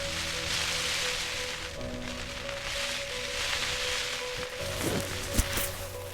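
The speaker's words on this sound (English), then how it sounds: "Not the worst wind and rain in the world" Wind and rain buffet a tent at a night-time wild camp in the Peak District, a steady rushing hiss with a low hum beneath and a few soft knocks and flaps near the end.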